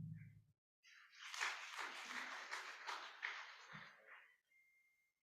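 An audience at a Regional Nile Day 2024 gathering claps for an arriving development partners' representative, a faint, distant patter of applause that rises, holds for a few seconds and then tapers off.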